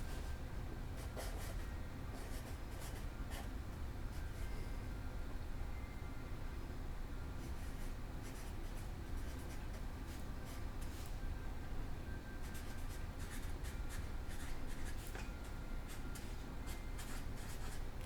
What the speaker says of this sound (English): I'm going to write a sentence.